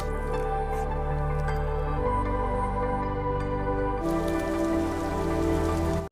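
Heavy rain pours steadily on a surface at night, a dense continuous patter with drips, loud and close throughout, with no voices.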